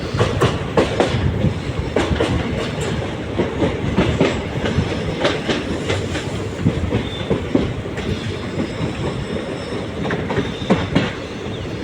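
A train from Salem to Mettur Dam in Tamil Nadu rolls along the rails into town with a steady rumble and rhythmic clickety-clack of wheels over joints, heard up close and continuous.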